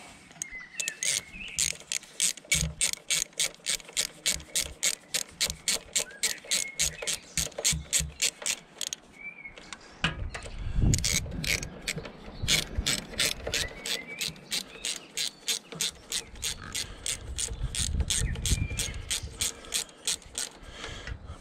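Ratchet tightening bolts on a Honda VFR800 motorcycle, rapid rows of crisp clicking in repeated bursts with short pauses and some clunks, close and clear with no talk.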